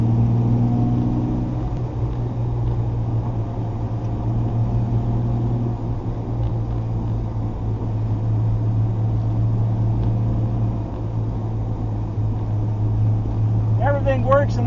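An E-type Jaguar's engine while driving along the Niagara Escarpment, a steady low drone held close and continuous, with a brief voice near the end.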